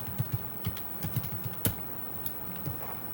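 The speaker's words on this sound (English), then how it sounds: "Type into your calculator." Rapid light taps on a calculator keypad, a dozen or so quick plastic key presses in an uneven rhythm, close and fairly quiet with no talking.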